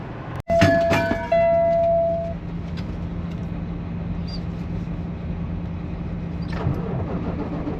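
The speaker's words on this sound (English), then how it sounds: "Truck ain't starting, all I could think of was why the truck won't start" A truck engine is cranked after a failed inspection in Oklahoma, giving a sharp starter burst followed by a sustained whirring drone that never catches into a proper running idle.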